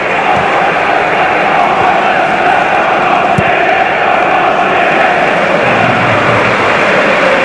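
Southampton football fans fill a stadium with a loud, unbroken wall of crowd noise and chanting during a match against Ipswich Town, steady and dense throughout.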